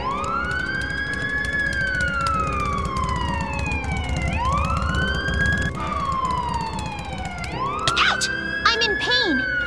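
Police car siren in Minecraft, a wailing tone that sweeps up and slowly falls in repeated long cycles, loud and continuous, with a busy rumbling game background beneath it.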